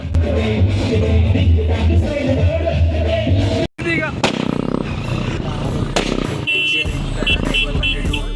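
Firecrackers burst at a crowded village fair, with sharp cracks and pops cutting through a dense, loud wash of crowd noise and traffic, and voices talking throughout.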